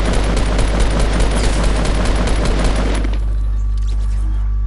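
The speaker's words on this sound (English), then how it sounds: "Shoot that ball down, Kyle." Rapid bursts of automatic gunfire in the Fortnite video game as a player shoots a ball down, loud and continuous for about three seconds before cutting off to a quiet in-game hum.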